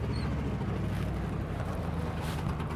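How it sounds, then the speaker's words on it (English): A loud truck passes nearby on a road during a dog-walking session, a steady low rumble with wind buffeting that holds throughout the short stretch. "loud truck going by"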